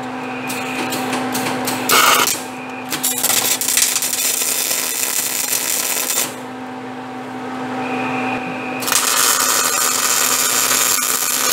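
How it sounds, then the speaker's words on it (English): An angle grinder strips paint from metal before welding, with loud harsh bursts of grinding and pauses between them, running over a steady mechanical hum with no talking. "grind off the paint so we can weld"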